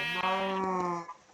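A single drawn-out Minecraft sheep bleat, clear and close, lasting about a second before fading.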